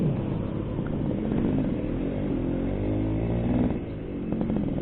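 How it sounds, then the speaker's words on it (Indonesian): A warmed-up 1989 Suzuki A100 motorcycle engine runs steadily nearby, a continuous dense mid-low drone with a brief dip in level near the end before it picks back up. "Nah ini mesinnya udah panas, udah enak banget dibuat ngebut."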